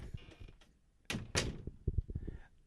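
A door opens in a sitcom home after a knock, with a couple of solid thumps and clunks of the latch and door close by, alongside faint movement and brief voices.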